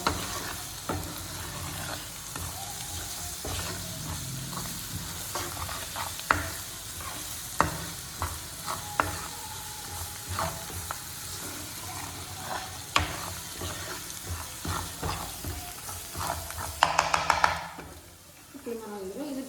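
Masala sizzles in a pan for chicken curry, a constant frying hiss broken by scrapes and taps of stirring, while a person talks over it.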